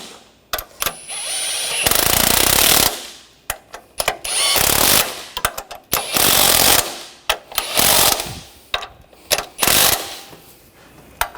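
Power tool rattling in repeated short bursts, like an impact gun, as it tightens the engine mount bolts on a 2014-2020 Nissan Rogue 2.5L; loud hammering runs separated by brief pauses, with no talking.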